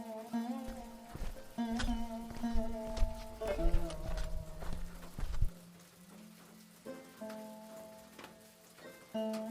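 Rain falling in a Hindi cartoon scene, a soft patter under a sustained tonal music bed, with scattered clattering hits and a deep rumble that cuts off partway through.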